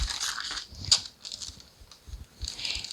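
Parchment paper being pulled out from under the edge of an iced cake on a plate, giving soft crinkling and rustling in short bursts, close and fairly quiet, with one sharper crackle partway through.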